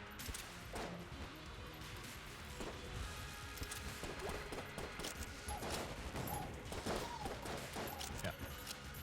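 Rapid gunfire and crashing blasts from the video game Enter the Gungeon rattle on continuously, layered busy effects at low volume with a voice briefly present.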